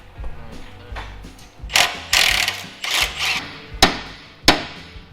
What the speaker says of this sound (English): Now I'm gonna tear this top ball joint out.